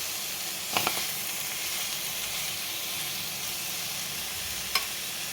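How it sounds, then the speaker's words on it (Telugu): Okra fry is tossed in a pan with a pounded coriander and green chili spice mix, a loud continuous sizzle close by with two brief scraping knocks of stirring. "కొత్తిమీర పచ్చిమిరపకాయలు కలిసి దంపుకున్న కారం ఒకసారి బాగా కలపాలి"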